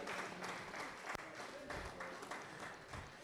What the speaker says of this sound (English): Please, a round of applause for Reverend Ken.